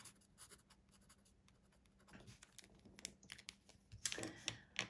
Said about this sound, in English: So let me sign a date and this one will be officially finished.